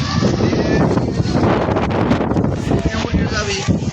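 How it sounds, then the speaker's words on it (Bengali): Strong gusting wind roars during a thunderstorm, a loud, continuous rushing buffet that batters the microphone throughout, with no talk. "অনেক বজ্রপাত হচ্ছে, অনেক ঝড় বাতাস হচ্ছে।"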